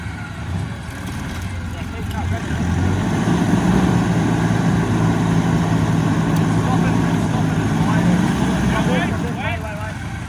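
A 4x4 bogged in beach sand at Belmont Beach, NSW, runs its engine steadily while the wheels spin, giving a low, sustained droning rumble with background noise and a voice talking over it.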